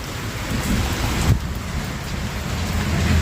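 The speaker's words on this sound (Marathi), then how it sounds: "खूप जोराचा पाऊस येईल असं वाटतंय ढग गडगड करताय विजा चमकताय" Heavy rain pours steadily outdoors during a monsoon storm, with low thunder rumbling beneath it and a brief louder crack near the middle; no voices.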